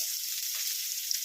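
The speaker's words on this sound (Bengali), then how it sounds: "এবার এই তেলের মধ্যে আমি দিয়ে দিচ্ছি কুচিয়ে রাখা পেঁয়াজ আর টমেটো।" Chopped onion and tomato hitting hot oil in a pan, a steady bright sizzle that stays loud and continuous throughout, with no voices.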